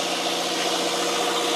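A generator runs in a yacht's engine room with a dense, constant mechanical drone and broadband hum. It is loud and unbroken, with no speech over it.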